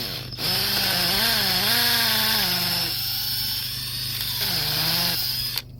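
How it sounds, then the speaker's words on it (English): A hammer drill whines loudly and steadily, its pitch rising and falling as it bores into clay soil for an electric fence, pauses briefly, then revs up again. "I got it set on the hammer drill setting."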